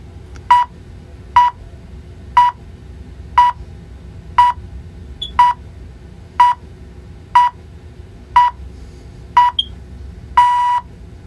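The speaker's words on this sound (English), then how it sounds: "It basically counts down until it gets to 0 and then beeps to tell you it's done." A CareTech ZeitGeist timer beeps sharply once per second, ten short beeps in an even rhythm, then a longer final tone, loud and close.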